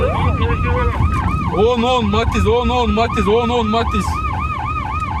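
Ambulance siren wailing in repeated rising and falling sweeps as it moves through city streets among other traffic, loud and close, with a voice talking over it.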